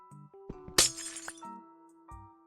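A pickaxe breaks a glass block in Minecraft: one sharp shattering crash with tinkling fragments, set among short blocky game clicks, no talk.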